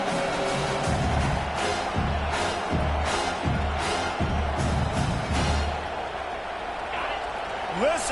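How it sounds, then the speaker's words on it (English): A football stadium crowd roars continuously for the home defense, a dense, loud wash of cheering with rising swells, while an announcer talks over it. "Listen to this crowd just shaking the girders of this place trying to help their defense"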